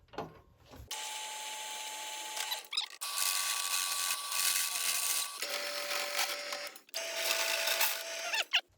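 A drill bores a pilot hole into a scrap steel air tank in several bursts, each a loud high whine with shifting pitch separated by brief pauses, close and alone.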